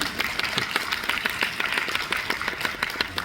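Steady audience applause at a Korean film screening and guest talk, dense continuous clapping from a full room filling the whole stretch.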